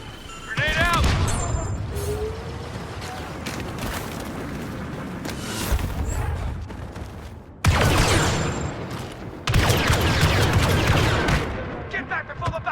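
Dense, continuous gunfire with booming blasts and a grenade explosion in the video game Star Wars Battlefront 2, loud throughout with brief dips and renewed bursts, soldier voices heard amid the battle.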